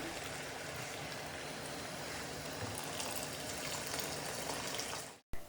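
Water gushes steadily into a cooking pot, about 4.5 cups poured for Arabic rice, a continuous splashing pour that runs for several seconds before stopping abruptly.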